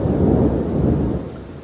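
Thunder rolling from an approaching thunderstorm, a loud deep rumble that holds steady for about a second and then eases off, with a soft wash of rain beneath it.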